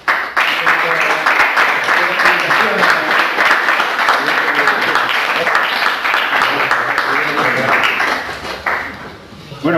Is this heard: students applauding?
yes